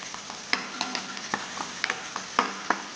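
A spoon scrapes and taps in a hot pan while ginger, asafoetida and turmeric are stirred into onions for a sweet corn sabzi, with irregular sharp clinks over a soft frying sizzle.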